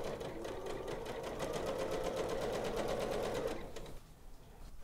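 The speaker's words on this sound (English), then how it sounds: "we're going to sew down each side" A Janome sewing machine runs a quarter-inch seam in one steady, rapid stitching burst lasting a few seconds before it slows and stops, close and clear with no talking.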